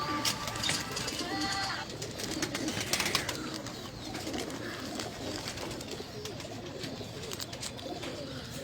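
Pigeons coo on a rooftop, their soft, repeated throaty calls close and steady amid other bird chirps, with people talking in the background.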